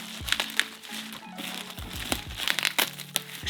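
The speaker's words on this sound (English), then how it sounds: "Let me just open up this. There's always so much tape on these guys." Tape being pulled and torn while a heavily taped mail package is opened: close, irregular crinkling and crackling with sharp rips and plastic rustles, scattered in quick uneven bursts.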